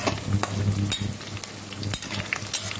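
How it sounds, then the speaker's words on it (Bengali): Onion sizzles steadily in a hot pan, with a few soft scrapes of stirring over the continuous fry. "তো বন্ধুরা, আমি পেঁয়াজটা ভাজতেছি।"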